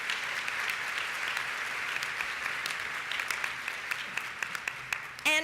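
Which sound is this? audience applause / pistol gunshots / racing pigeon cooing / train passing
audience applause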